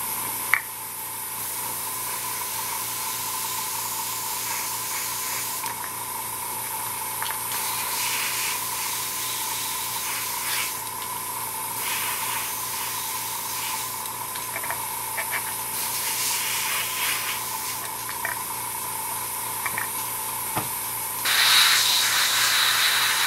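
A spray paint can or airbrush coats the barrel of a 1/48 scale Tamiya model kit in repeated close hissing bursts, each lasting a few seconds with short pauses between.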